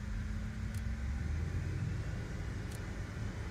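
Airliner engines in a flight simulator spool up for takeoff on a windy day in Atlanta, a low steady rumble filling the background without speech.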